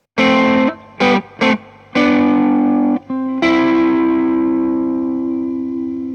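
Overdriven electric guitar through the Keeley mod setting of a JHS Bonsai pedal plays a few short chords, then rings out on a long sustained chord that slowly fades, warm and distorted, with no other sounds.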